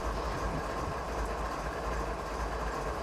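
A CSX freight train rolls onto the Amtrak Northeast Corridor in Train Simulator 2015, giving a steady, loud rumble of rail noise and engine drone with no pauses.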